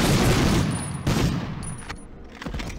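Rapid gunfire in the Medal of Honor video game as a player shoots up boxes, some of which explode, a dense, loud volley of shots with sharp bursts, continuing steadily and fading slightly toward the end.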